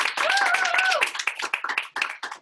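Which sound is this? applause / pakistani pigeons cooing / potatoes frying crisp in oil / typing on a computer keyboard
applause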